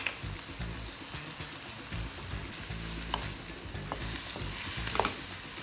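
Sliced ingredients are sautéed and stirred in a pan for a pasta dish, producing a steady close sizzle and frying crackle with occasional scraping stir noises and no voices.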